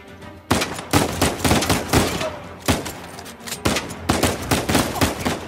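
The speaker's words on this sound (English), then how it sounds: "Nice shooting!" Gunfire in Uncharted 4: The Thief's End, rapid bursts of shots fired in close, loud volleys with brief pauses between them, repeating steadily over several seconds.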